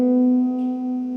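Piano white and black keys pressed together as a chromatic cluster ring out as one steady, sustained chord, even and unbroken for just over a second, with no voices.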